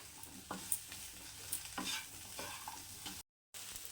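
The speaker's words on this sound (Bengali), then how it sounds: "এবার এটাকে আমি একদম লাল লাল করে ভেজে নেব" Cauliflower pieces fry quietly in a pan at medium heat while a utensil scrapes and stirs them in short bursts, with a soft sizzle underneath and a brief silent gap near the end.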